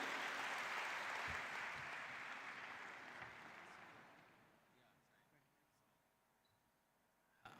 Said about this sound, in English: Please put your hands together and welcome with a big round of applause, Padma Shri Milind Kamble ji